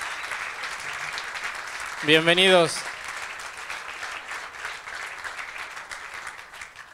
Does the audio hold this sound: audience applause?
yes